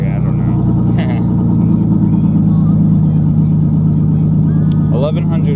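A V6 engine fitted with custom headers and a custom exhaust idles at about 1100 RPM with a slightly stumbling, uneven rumble. It is close and steady throughout, and a brief voice is heard around one second and again near the end.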